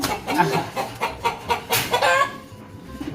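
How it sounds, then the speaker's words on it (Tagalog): Chickens cluck in quick repeated calls close by at a racing pigeon loft, a rapid series of loud clucks followed by quieter background noise. "ingay ng manok."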